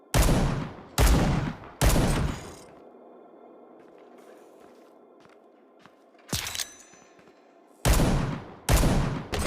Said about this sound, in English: I'm gonna throw a grenade first and then fire at the enemy.